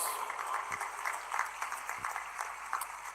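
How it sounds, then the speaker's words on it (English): An audience applauds cultural performers at a large centenary celebration for Sri Sathya Sai Baba in Puttaparthi. Faint, distant, sustained applause washes through a big hall, with a couple of low thumps. "Let us give them a huge round of applause"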